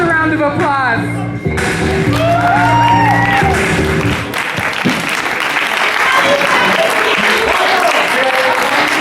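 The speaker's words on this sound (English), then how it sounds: "Give us a round of applause." At the Blizzard Ball, a loud crowd applauds and cheers with whoops and shouts over dense clapping. Voices and an announcer's speech overlap at the start, then the clapping and cheering swell and carry on.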